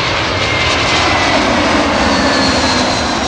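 A loud, steady roar of a landing airplane's engine close by at an airport, broad and continuous with no voices.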